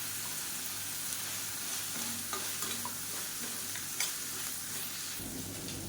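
Cauliflower stir-fried in a pan makes a steady sizzle mixed with soft scraping and stirring clatter, close and alone, with no talk.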